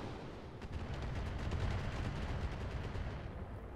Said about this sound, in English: here comes their missiles